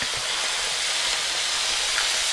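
Salted fish dropped into hot oil gives off a loud, steady broadband sizzle that holds evenly from start to finish, with no talking.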